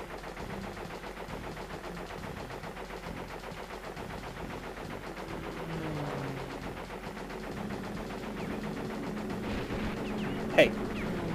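Rapid jet gunfire from a Crash Bandicoot Warped aerial level, a steady dense rattle of shots running throughout alongside game music and engine drone, with a sharp pickup or hit burst near the end.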